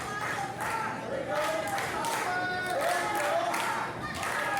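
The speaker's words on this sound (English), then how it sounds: "You can hear the wild chants. You can hear the claps." Crowd at an independent wrestling show in Levelland, Texas, with a steady bed of clapping and rhythmic chanting voices throughout, loud and continuous with swells of cheering.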